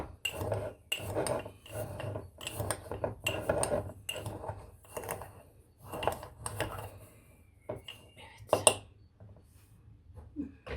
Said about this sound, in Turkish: Şu tuzun kaşığıyla bir karıştırayım.